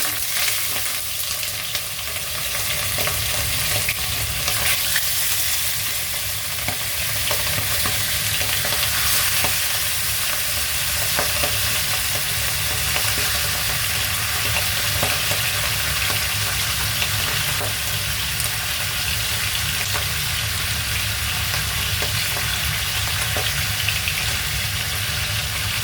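Fish frying with ginger in a pan, a steady, loud sizzle and crackle of hot oil running the whole time with occasional stirring scrapes, no voices.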